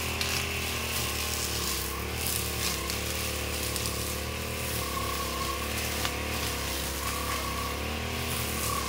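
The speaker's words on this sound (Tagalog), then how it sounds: "Mag-grass cutter si Master" A grass cutter runs steadily outdoors in the Philippines, its small engine giving a loud, unbroken buzzing whine that holds for the whole stretch.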